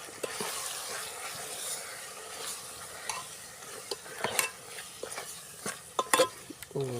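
Curry masala, potato and coconut are sautéed in a pan, a soft sizzle under repeated scraping stirs and sharp utensil clinks that grow busier toward the end.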